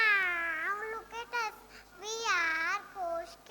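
Young children in a nursery-class school play meow in imitation of cats, several rising and falling drawn-out calls in a row, close and clear with brief gaps between them.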